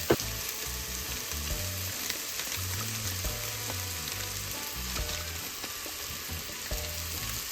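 Cumin seeds and curry powder fry in a pot for a Jamaican mango and jackfruit curry, a dense, continuous crackling sizzle throughout with small pops, close and steady.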